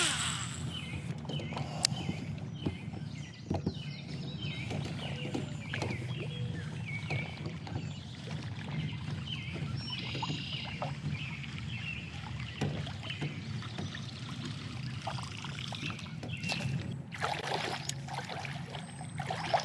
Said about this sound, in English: I use my anchor line attached to my belt to drag my kayak over rocks and through dense river grass